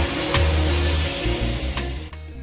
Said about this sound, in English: I'll reattach the spray bottle, put it in the on position, and begin soaking the areas that have the new nutsedge growth